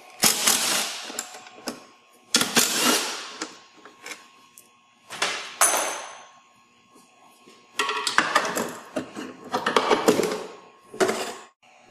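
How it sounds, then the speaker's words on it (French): Four bolts being removed from the plastic double floor of a Track N Go tracks during disassembly, producing bursts of ratcheting, clattering mechanical noise in separate loud spells with quiet gaps between them. "On enlève 4 boulons."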